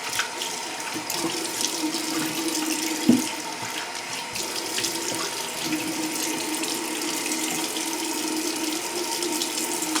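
A tap runs steadily into a sink while someone rinses off after a shave, a continuous close splashing stream with a faint thump partway through.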